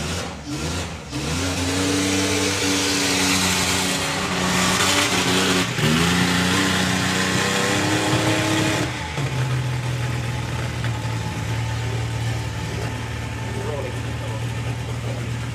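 Econorail nostalgia drag racing car at Santa Pod Raceway, its engine revving loudly with harmonic rises, then dropping to a steady rough idle after the throttle linkage shakes off; a commentator talks over it.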